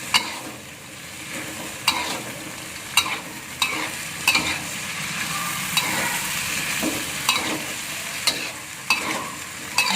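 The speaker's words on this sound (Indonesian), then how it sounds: "Nah, kita aduk rata sama tempenya." Tempeh fries in a pan for sweet-spicy oseng tempe, a soft continuous sizzle under periodic scraping knocks of a spatula stirring it through the sauce, close by and without speech.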